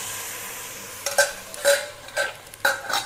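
Boiled mutton being stirred into masala in a pan for Dindigul mutton biryani: four or five distinct scraping, clattering spoon strokes over a faint low sizzle, close and moderately loud.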